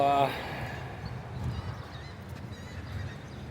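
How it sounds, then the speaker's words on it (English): Geese honking outdoors, with a sharp, loud call at the start and then fainter, scattered honks over a rough background of wind and ambient noise. "fucking birds that are driving us crazy"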